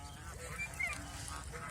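Male domestic geese on a Mohanganj goose farm give a few faint, brief honks over a low, steady background hum, with one slightly louder call partway through.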